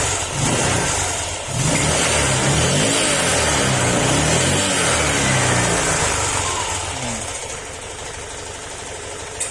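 A car engine runs steadily and noisily, with a rough, uneven mechanical clatter from an internal engine problem, and a slight dip in level partway through.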